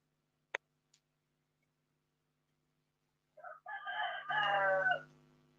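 A rooster crows once, close and clear, in a long rising call that ends in a sustained note, after a quiet stretch broken only by a couple of small clicks.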